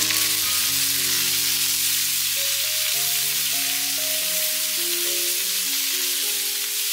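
Okra pieces mixed with salt and turmeric in a pan for an Andhra-style curry: a steady, even sizzling hiss runs throughout, with a tonal melody playing alongside.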